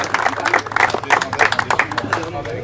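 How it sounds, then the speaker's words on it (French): An audience applauds a player named Pio at a festive game show event, dense rhythmic clapping close by, mixed with voices talking over it. "on peut l'applaudir, un bravo Pio"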